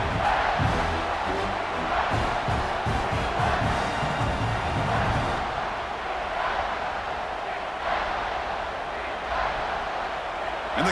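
A stadium crowd in the College Football 26 video game roars steadily as a big simulated audience cheers for the defense in the red zone. The cheering is loud and continuous, swelling early and then holding at a lower level.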